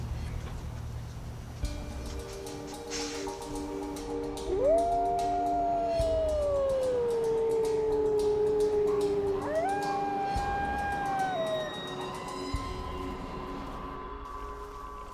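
Wolves howling in the abandoned Chernobyl zone: long, sliding howls, one rising and falling over several seconds followed by a second higher howl, with other faint howls layered behind and steady background noise.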